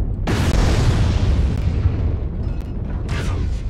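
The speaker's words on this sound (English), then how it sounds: "Artillery strike." Artillery strike explosion in the video game MechWarrior Online, a loud close boom with a long rumbling decay, followed by faint metallic clanks.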